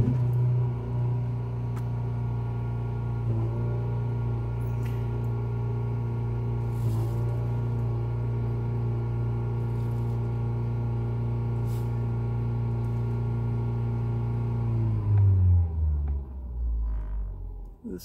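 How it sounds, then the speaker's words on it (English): A 2013 Ford Focus engine is held at a steady high rev with the brake on and the throttle floored, droning loud and constant, then dropping away sharply near the end as the revs fall. "So hold the brake, floor the gas."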